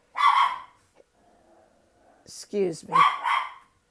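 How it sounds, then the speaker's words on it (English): Dogs barking in short bursts between stretches of someone talking, the barks loud and close, overlapping her voice near the end. "The dogs got to barking and she kept on."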